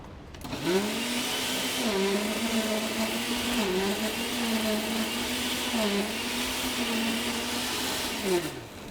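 A steady motorized whir runs for several seconds, shifting pitch slightly as the load changes, a blender blade spinning through a mix for veggie wraps.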